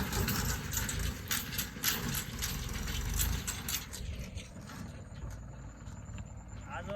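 A motor engine runs steadily throughout, a low rumbling drone with some clanking and rattling on top, fairly close.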